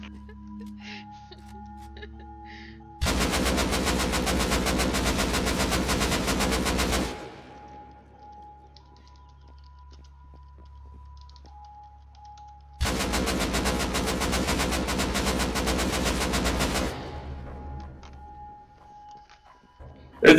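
Two long bursts of rapid automatic gunfire in an online survival shooter game, each lasting several seconds, loud and close, separated by a quieter stretch of low game ambience.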